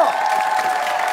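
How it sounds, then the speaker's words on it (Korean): Studio audience applauding and cheering on a Korean TV talent show stage, a dense, steady wash of clapping with crowd noise throughout the short moment. "박수 주세요"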